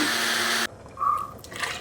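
A mixer grinder grinds curry paste for a coconut curry, a loud, steady whirring roar for under a second that cuts off abruptly, leaving quieter kitchen rustling behind.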